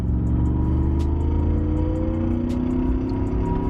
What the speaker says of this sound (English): We'll do a kick down right here.